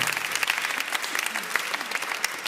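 Congregation applauding the Lindakirkja church choir at a Sunday church service, a steady dense patter of many hands clapping, fairly close and sustained throughout.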